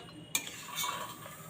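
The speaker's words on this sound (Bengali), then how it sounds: "সব দিয়ে আমি ভালো করে নেড়ে চেড়ে মিশিয়ে দিচ্ছি" Chicken do pyaza with fried onion, chilli, tomato and kasuri methi being stirred and mixed in a pan, a sharp utensil scrape at the start followed by soft steady scraping and faint sizzling, close and fairly quiet.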